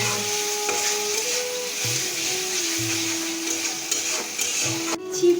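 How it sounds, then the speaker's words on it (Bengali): Chopped onion, chili and tomato stirred and frying together in a pan for dal fry, giving a steady, close sizzle with occasional scrapes and knocks from the spatula. "দিয়ে দিচ্ছি লঙ্কা কুচি, দিয়ে দিচ্ছি টমেটো কুচি, সব কিছুকে একসাথে নেড়ে চেড়ে মিশিয়ে নেব।"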